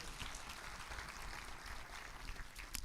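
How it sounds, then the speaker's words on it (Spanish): Audience applause during a church sermon gathering, a continuous patter of clapping from a group that runs at a steady, moderate level for its whole brief length. "un aplauso para ustedes"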